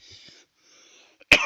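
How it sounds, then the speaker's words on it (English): A single harsh cough bursts out loudly near the end, following a stretch of faint hissy background noise. "sorry about my coughing"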